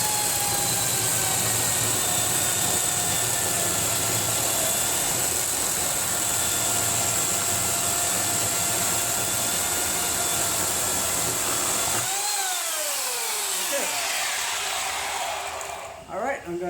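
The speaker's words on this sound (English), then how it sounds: "that's a Chicago electric sharpener" A Chicago Electric chainsaw sharpener from Harbor Freight runs with a steady, loud whine and grinding hum, then spins down with falling tones as it is shut off near the end.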